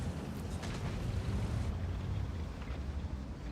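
A burning enemy tank in a World of Tanks battle gives off a steady, low roaring rumble like flames and wind, continuous and fairly faint, with no voices.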